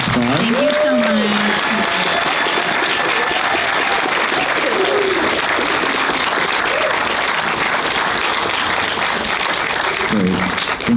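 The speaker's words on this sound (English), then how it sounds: "let's give another round of applause" Audience applause at the close of a film Q&A at a film festival, a steady wash of clapping sustained throughout, with a voice speaking over it now and then.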